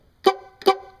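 A Chevy Z71 truck horn honks twice in quick succession, loud, close and brassy, each blast short and clean against silence.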